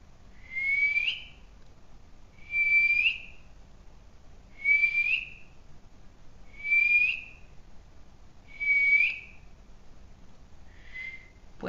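A person whistles a short repeated rising note, six evenly spaced bursts about two seconds apart, clear and fairly close against quiet background, the last one softer.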